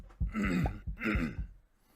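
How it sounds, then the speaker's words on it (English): A couple of short, harsh throat clearings close to the microphone, two bursts with a brief pause between, then quiet. "Like clearing my throat into the microphone."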